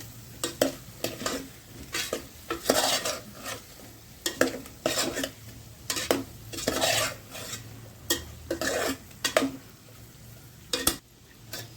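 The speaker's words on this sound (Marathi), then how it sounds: "ही कारली आपण छान परतवून घेतलेली आहे तेलामध्ये" Bitter gourd sautéing in oil in a home kitchen, with repeated scraping stirs of a utensil against the pan over a soft background sizzle, close and rhythmic, no talking.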